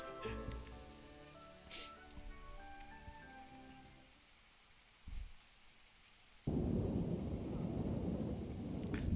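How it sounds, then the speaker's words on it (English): Video game thunderstorm in The Sims: soft rumbles of thunder under faint game music, a distant crack midway, then a sudden steady wash of heavy rain. "Thunderstorms?"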